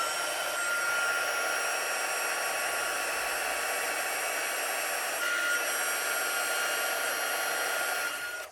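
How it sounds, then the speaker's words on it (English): A heat gun blows hot air for embossing a handmade greeting card, giving a loud, steady, even whoosh with a faint whine that runs unbroken and alone for the whole stretch before cutting off at the end. "turn on this heat gun and move it around until we see it turn nice and white"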